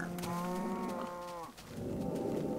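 Minecraft cows moo in a video game, giving one long, loud, drawn-out bovine low followed by a shorter, rougher grunting moo close by.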